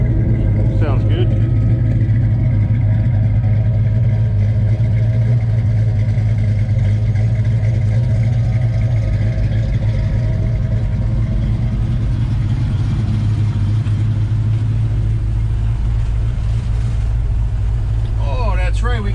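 A 1966 Chevy Nova with Sniper EFI idles steadily with a low, rumbling drone close by, while people talk over it.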